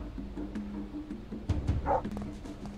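Dog barking in Wonhon: A Vengeful Spirit, a few short sharp barks over a low humming game background, close and clear.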